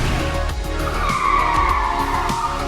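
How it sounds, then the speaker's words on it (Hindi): A Ferrari sports car speeds through city streets at night, its tires squealing in a loud, sustained skid over engine roar, close by. "रात के 11 बजे रेहान अपनी फरारी लेकर निकला। सिटी लाइट्स के बीच लाउड म्यूजिक, स्पीड"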